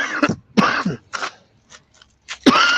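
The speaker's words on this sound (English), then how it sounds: "You really cough." A person coughs harshly several times in separated bursts, close and loud, with short pauses and quieter rasping in between.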